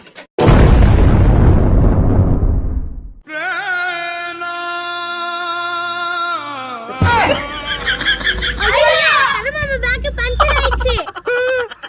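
A firecracker goes off with a sharp, loud bang that crackles for a few seconds, then people cry out and talk excitedly.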